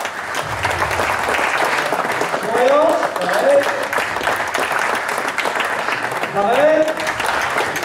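Audience applause at a physical training session, with a continuous clatter of clapping throughout as someone speaks briefly over it.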